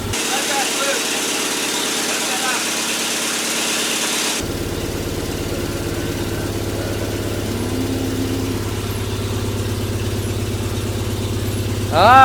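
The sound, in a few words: Mazda car engine running after first start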